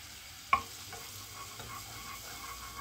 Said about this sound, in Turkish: Yağımızın üzerine 1 yemek kaşığı un ilave ediyorum.